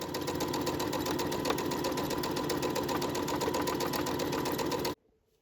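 A sewing machine runs a straight stitch along the upper edge of an insulated medical pouch pocket, a loud, fast, even mechanical chatter held for about five seconds before stopping abruptly into silence.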